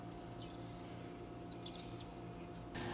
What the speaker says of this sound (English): Pour in 2 cups water and 1 cup sugar